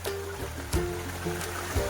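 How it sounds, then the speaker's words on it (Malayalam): A small hill stream in hilly countryside flows and trickles nearby, a soft continuous burble with gentle surges of water, with no talking. "കണ്ടോ, നല്ല അരുവിയാണ്. കുഞ്ഞു കുഞ്ഞു മലയോര പ്രദേശത്തുള്ള അരുവികളാണ് ഇതൊക്കെ."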